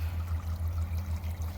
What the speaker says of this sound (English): got a good water flow going.